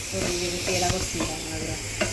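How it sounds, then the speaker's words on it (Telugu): Paneer frying and being stirred in a home kitchen pan, with a steady close sizzle, scraping stir strokes and a few sharper clinks, no talking. "పన్నీర్ అయితే ఫ్రై అయిపోయింది."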